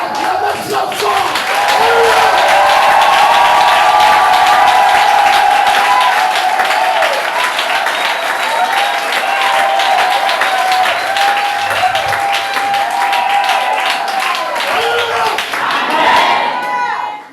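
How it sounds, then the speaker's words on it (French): A church congregation claps loudly and continuously, with scattered cheers and shouts rising over the dense applause, which swells and fades near the end. "Acclamez ça fort"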